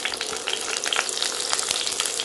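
Eggplant pieces sauté in hot oil for an idli and dosa chutney, giving a steady, close crackling sizzle with brisk pops throughout and no talking.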